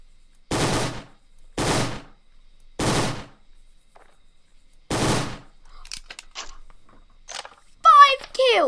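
Burst-fire weapon in a Roblox game styled after Fortnite, four loud separate bursts of gunfire about a second apart, followed by quieter game clicks and a voice speaking near the end.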